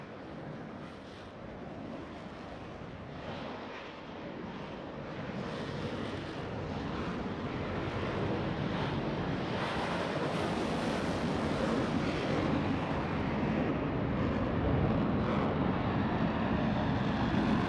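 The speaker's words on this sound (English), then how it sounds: "From the right, the official virtual Roblox Blue Angel Diamond." In a Roblox aerobatic festival, Blue Angels jets in diamond formation pass by with a broad, rushing roar that builds steadily and stays loud, with a windy wash.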